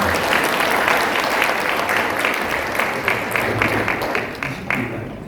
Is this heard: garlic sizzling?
no